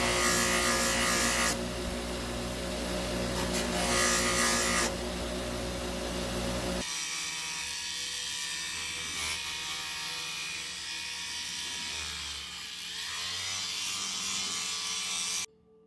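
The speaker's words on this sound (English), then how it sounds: "I'm ready for high-speed buffing" A high-speed buffing wheel polishes a fire obsidian pendant, a loud steady motor whine with gritty friction noise that drops in tone partway through as the piece is pressed against the wheel.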